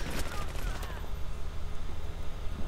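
Rapid gunfire in Battlefield 3 on PS3, a burst of shots that starts loud and fades into a muffled rumble, with a voice talking over it.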